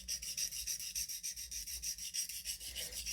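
A paring knife being sharpened on a whetstone, steady rhythmic back-and-forth rasping strokes, close and continuous with no voices.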